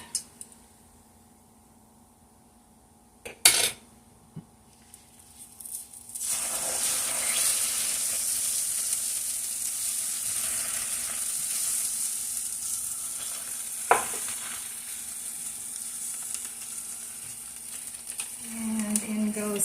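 Eggs go into a pan and fry, a sizzle that starts loud after a couple of clunks and keeps going steadily, with a sharp tap partway through and a voice speaking briefly near the end.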